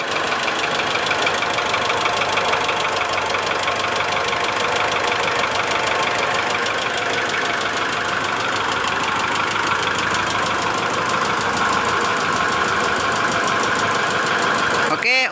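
Mitsubishi Strada Triton GLS engine idling with a rough tapping knock while its injectors are disconnected one at a time, a steady continuous mechanical clatter that runs throughout with no talk.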